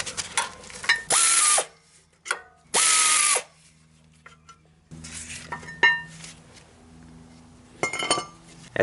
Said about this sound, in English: Now remove the 2 caliper bracket bolts with an 18mm socket.